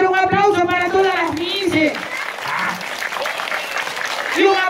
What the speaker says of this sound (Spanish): A ver, un aplauso para todas las